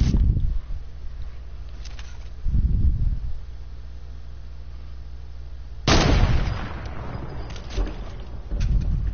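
A sniper rifle in an online shooter game cracks once sharply and close, with a booming tail that fades. Duller thuds and low game rumble come before and after it.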